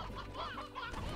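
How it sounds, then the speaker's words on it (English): Hens in the video game Slime Rancher cluck in a short, close burst, several overlapping calls with no talk over them. "look at all the chickens."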